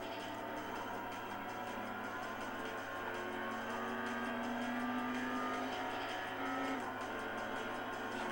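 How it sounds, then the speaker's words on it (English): A car engine in the Import Tuner Challenge video game holds a steady high-speed drone near the rev limiter, with continuous tonal whine and slight pitch shifts, loud and unbroken throughout. "We should be able to be like hitting rev limiter at 300 k's an hour now."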